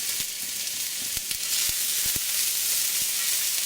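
Ginger, onion and green onion fry in hot oil with a loud, steady close-up sizzle and hiss, broken by a few light taps of a utensil stirring.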